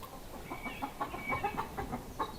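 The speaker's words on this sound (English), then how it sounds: "Lots of action with the chickens this morning." Chickens cluck steadily nearby, a busy overlapping chatter of short calls with a faint higher squawk drifting through.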